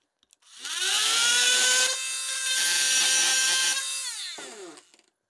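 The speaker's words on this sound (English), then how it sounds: "what if I cut it with a Sawzall and there's no nails sticking up?" A Sawzall reciprocating saw cuts through old wood, a loud, steady buzzing rasp that runs for about four seconds with slight pitch shifts, then winds down as the blade stops, with no talk.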